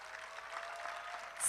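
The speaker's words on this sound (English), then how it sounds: "a very, very, very big round of applause for all these talented people out here" Faint, distant applause from an audience at a Sindhi song-and-dance show in Dubai, a soft even patter of clapping that swells slightly at the very end.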